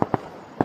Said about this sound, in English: I think they're shooting off another one right now.